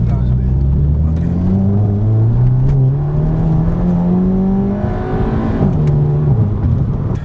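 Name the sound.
Aston Martin supercar driving off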